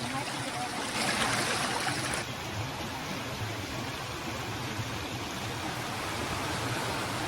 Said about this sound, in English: That was an exciting water crossing